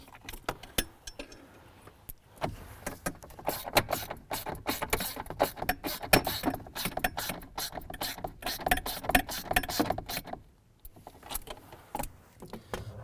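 Screws being tightened on a blend door actuator of a 2007-17 Jeep Wrangler, rapid ratcheting clicks and metallic ticks in bursts, close up, with a short pause midway.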